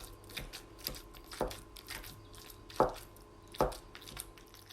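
Turkish cheese is broken up and mixed into a cooked minced meat filling, with soft scattered taps and a few sharper knocks of a utensil against the pan, quiet and close, no voices.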